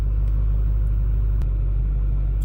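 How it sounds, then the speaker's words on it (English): A Ford F250 with the 6.4 diesel engine idles with a steady, loud low rumble throughout, with one brief click partway through and no talking. "Start truck real quick."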